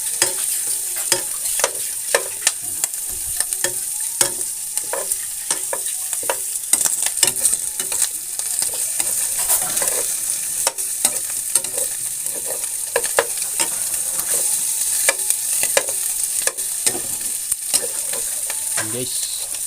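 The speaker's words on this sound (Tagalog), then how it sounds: "tayo magigisa ng sibuyas at bawang" Onion and garlic sautéing in a pan, a continuous hot sizzle broken by frequent sharp clicks and scrapes of a spatula stirring against the pan, close and fairly loud with no talk.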